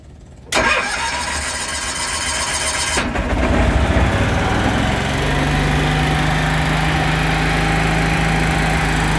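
A Cushman utility vehicle's small engine cranks for a few seconds with the choke pulled, catches, and settles into a loud, steady, buzzy idle close by.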